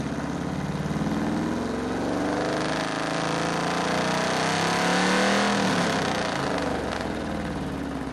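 A homemade tractor engine runs at a car show, a steady, fairly loud mechanical drone that rises slightly in pitch and swells toward the middle before settling.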